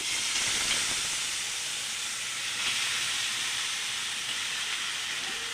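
Crab curry ingredients go into hot oil in a wok and raise a loud, steady hiss, a broad continuous sizzle with no talk over it.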